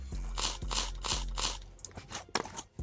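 Someone bites into and chews a crunchy birria taco, the crisp shell crackling in a steady chewing rhythm close to the microphone, with a few sharper crunches toward the end.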